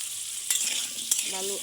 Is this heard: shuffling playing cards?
no